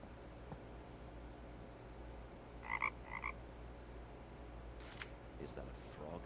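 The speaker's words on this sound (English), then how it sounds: "Is that a frog I hear?" A frog croaks in the video game The Night of the Rabbit, two short, faint paired croaks over a quiet hum, followed by a few soft clicks.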